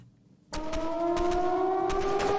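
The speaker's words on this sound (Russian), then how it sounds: "Ох уж эти звуки сирены." A siren in the zombie train game Zompiercer starts suddenly and wails steadily at a sustained, slowly rising tone, loud and alone, with a few sharp clicks and knocks over it.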